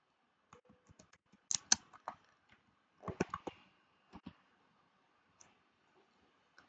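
Computer keyboard keys clicking as a short search is typed, with sparse taps followed by quick bursts of clacks, fairly close and fairly quiet, with no voice.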